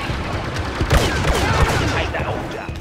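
Rapid rifle gunfire from a blaster in the Star Wars Battlefront video game, a dense run of bursts and impacts over steady battle noise, with a voice occasionally under the shots.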